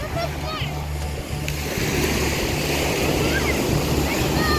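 Loud, continuous rushing and splashing of surf close by, with a constant low rumble beneath and voices faintly mixed into the roar.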